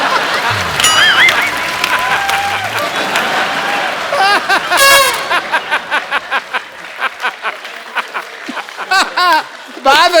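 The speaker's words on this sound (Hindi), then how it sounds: "आपने तालियां मारी ना अभी अभी" Studio audience on a Hindi comedy talk show clapping and laughing, with a host talking loudly over the crowd and bursts of chuckling and applause throughout.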